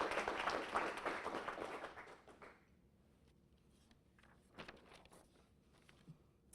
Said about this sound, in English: So how about a round of applause for Aspen Keel?